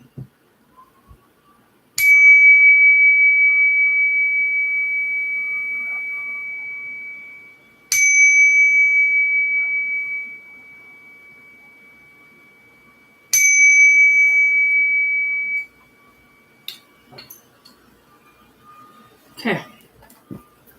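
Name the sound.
ringing bells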